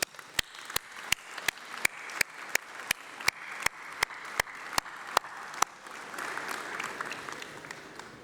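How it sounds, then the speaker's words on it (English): At a graduation ceremony, sharp, evenly spaced claps tap out a steady rhythm, then give way to a broader wash of applause near the end. "please join me in a massive round of applause for them"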